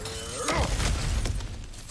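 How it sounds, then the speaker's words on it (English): Cracked ground being smashed open in God of War Ragnarok, a single loud shattering crash with a heavy thud and crumbling debris that trails off over the next second. "back to smashing through things for fun and profit"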